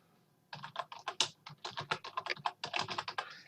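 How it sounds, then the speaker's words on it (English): Close, quiet typing on a computer keyboard as a name and email address are entered: a fast, uneven patter of key clicks with brief gaps between bursts. "I'm going to go ahead and just enter my name here, and I'll put in my email address"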